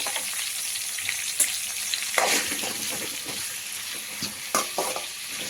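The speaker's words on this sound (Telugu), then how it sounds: "2 పెద్ద సైజ్ టమాటోలు వేసేసుకొని ఫ్రై చేసుకోవాలి" Two large tomatoes frying in a pan for a stuffed capsicum masala curry, a dense continuous sizzle with occasional spatula scrapes and clicks, close up and without talk.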